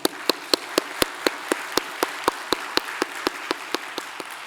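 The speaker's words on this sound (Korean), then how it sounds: "우리 하나님께 한번 영광의 박수 올리겠습니다" A church congregation claps during a Korean sermon, sounding like a single steady pair of hands with about twenty sharp, evenly spaced claps close by in a quiet room.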